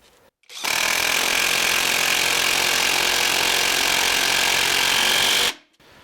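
A Litheli U20 1/2-inch cordless impact wrench drives a 7/16-head bolt with a 5/16 thread, producing a loud, steady rattling whir that lasts about five seconds and starts and stops abruptly.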